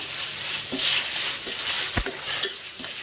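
Ghee chicken roast being stirred in a pan, with scraping spatula strokes and a few sharp clinks over a continuous sizzling fry.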